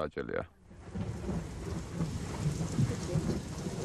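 Steady rain hisses down in Armenia while low thunder rumbles and rolls throughout, after a brief muffled voice at the very start.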